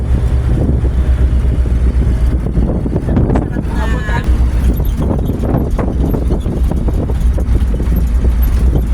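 Steady wind rumbles and buffets across the whole stretch in cool Tagaytay, with voices and movement faintly beneath it.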